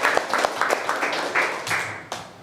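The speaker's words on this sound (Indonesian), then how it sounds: "tepuk tangan untuk semuanya" A classroom of Indonesian students claps together, a dense patter of hand claps sustained at a steady level, close and fairly loud, with a few brighter individual claps standing out before it tapers off.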